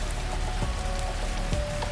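Steady rain falls outside a hotel room window, a dense patter with scattered heavier drops tapping close by, and no voices.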